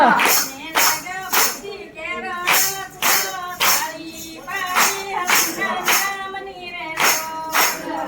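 A devotional satsang group claps in steady unison, loud sharp beats about twice a second under a chorus of voices singing a Gujarati bhajan throughout.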